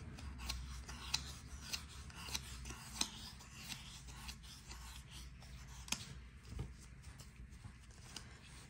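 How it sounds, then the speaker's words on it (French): Scissors cutting yarn for a crochet star keyring, with faint, close snips and light rubbing and clicking sounds scattered through a quiet, hissy background. "je vais couper mon fil"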